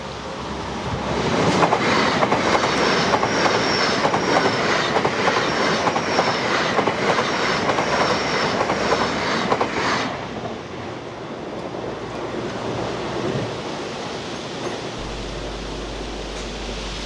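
An LNER King's Cross to Edinburgh diversion train roars past at close range, with loud rumbling and rhythmic wheel clatter for about ten seconds before fading to a softer rolling sound.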